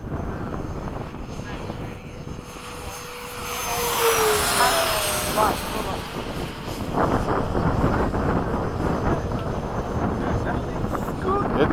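A Freewing 90mm F-15 RC jet with a ducted fan passes overhead, its loud rushing whine swelling as it nears, with wind buffeting the microphone.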